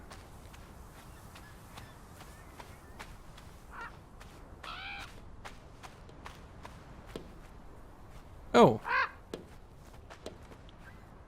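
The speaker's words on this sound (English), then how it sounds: "Bird's trying to get in." Bird in the video game Draugen trying to get in, heard as a couple of sharp, close squawking calls near the end over a steady run of footsteps.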